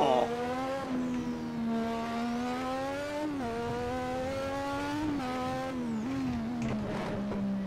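A race car in the Assetto Corsa video game, lapping Brands Hatch, holds a loud, sustained engine howl, climbing through the revs with brief dips at gear changes.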